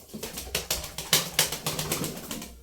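Pigeons: a run of soft, rhythmic wingbeat-like flutters, repeated roughly every quarter second and fairly close, with no voices.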